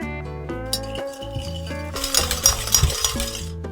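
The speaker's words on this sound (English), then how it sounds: "Take 1 egg and mix with sugar." An egg being mixed with sugar for a banana cake: a utensil clinks and scrapes against a bowl in quick bursts, close and fairly loud, with a rising rush of stirring in the second half.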